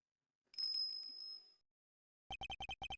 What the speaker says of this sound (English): That sound. Is that a bell?